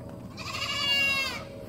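Goats at a rain-soaked farm pen bleat at feeding time, one long wavering call swelling close and loud, with other animal noise faintly behind.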